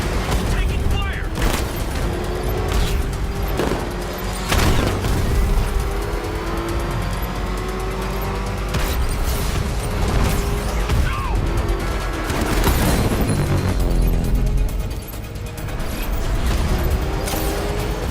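Gunfire and vehicle noise in the Batman: Arkham Knight video game, with repeated loud bursts of shots and booms over a steady engine roar and radio-style game chatter throughout.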